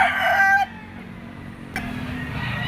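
A rooster crows in the first half-second, loud and near, then breaks off; lower-pitched fowl sounds and yard noise continue underneath, with a brief sharp noise partway through.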